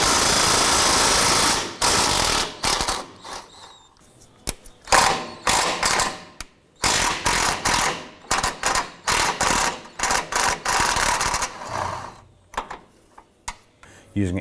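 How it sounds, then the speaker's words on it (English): A ratchet with a 16mm socket and extension working the upper rear shock bolts on a 2007-17 Jeep Wrangler, heard as loud, rapid mechanical clicking in repeated bursts with brief pauses between them. "Using a 16mm socket extension, I'm going to go ahead and remove these two upper bolts."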